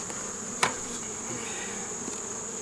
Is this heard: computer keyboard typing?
no